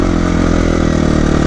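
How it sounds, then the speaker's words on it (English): A 2018 KTM 350 EXC-F dirt bike engine runs steadily close by, a loud, even idle with a buzzy, harmonic-rich tone and no voices over it. "So my bike is a 2018 KTM 350 EXC-F."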